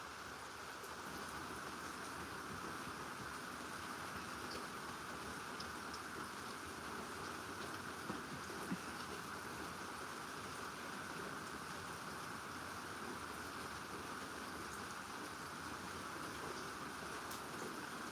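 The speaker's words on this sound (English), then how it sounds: "Thanks for enjoying the storm." Steady rain falls during a storm as a continuous, even hiss of drops on surfaces. It runs for the whole stretch with no clear thunder claps and no voices.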